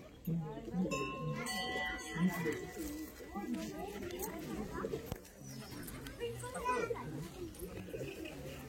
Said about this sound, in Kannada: ಮಸ್ತ್ ಪಾರಿವಾಳ ಉಂಟು